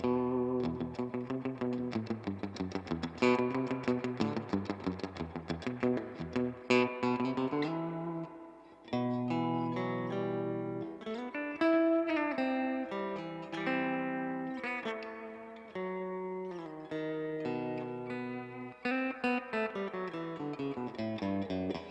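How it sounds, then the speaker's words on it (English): Electric guitar through a Mesa Boogie Mark V amp with deep, very wet reverb on channel 1, notes and chords ringing out with long washy tails, played alone and loud. "That's a really, really wet reverb."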